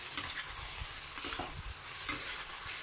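Eggplant and basil leaves stir-fried in hot oil in a pan, a steady hiss of frying with repeated scraping stir strokes, close and moderately loud, no voices.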